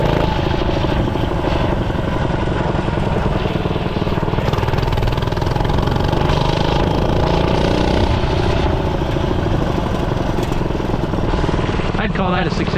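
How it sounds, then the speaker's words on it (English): Small GoPowerSports engine on a Barbie scooter converted into a minibike, running at around 25 mph: continuous loud buzzing drone from close by, holding nearly steady for the whole stretch. "that GoPowerSports motor sounds pretty cool"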